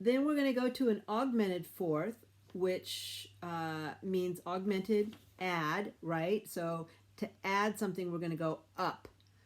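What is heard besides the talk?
No everyday noise stands out behind the speech.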